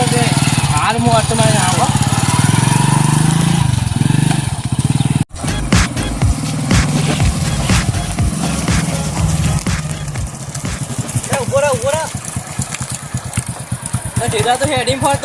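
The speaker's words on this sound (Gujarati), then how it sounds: "આ તો બાઇક લઈને આવી ગયો" A motorcycle engine idles loudly nearby, briefly cutting out then rumbling again, while people talk over it.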